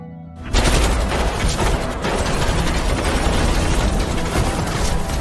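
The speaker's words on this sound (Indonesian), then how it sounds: "Tembakan pun dilakukan." Sustained heavy gunfire from special forces in a Korean film, a dense, loud continuous barrage of overlapping shots that erupts suddenly after a brief quiet start and keeps roaring without pause.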